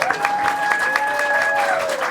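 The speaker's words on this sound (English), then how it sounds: "Everybody give a round of applause to our panelists." Loud, dense applause from an audience for panelists after a Q&A session, a continuous wash of many hands clapping, with a thin high whistle-like tone sounding over it.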